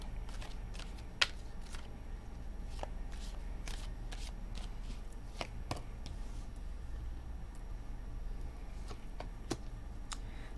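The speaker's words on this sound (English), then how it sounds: "2 more shuffles." Tarot cards riffle and snap in repeated quick shuffles, crisp flutters and taps close up against a low steady hum, no voices.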